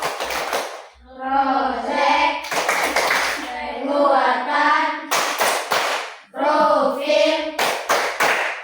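Children in a classroom perform the rhythmic Tepuk Pancasila clap, crisp bursts of patterned hand claps alternating with a chanted group voice, close and loud, with a teacher's voice between.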